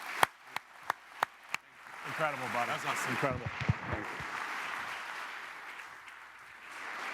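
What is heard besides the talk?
audience applause for someone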